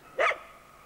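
A single short, sharp dog bark, fairly close and alone, in an empty Communist Party hotel, followed by quiet room tone.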